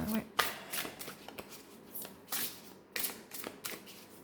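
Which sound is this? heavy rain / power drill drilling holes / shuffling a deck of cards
shuffling a deck of cards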